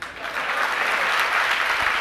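Audience clapping during a Jain religious discourse, a steady, sustained wash of applause from many hands at an even level with no pauses.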